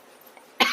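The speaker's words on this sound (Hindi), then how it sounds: "आज तो इतनी खांसी आ रही है" A single short, harsh cough near the end of the clip from a woman with a bad cough, after a near-silent lead-in.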